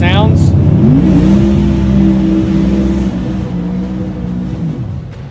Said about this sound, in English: sounds fine turning it over with the starter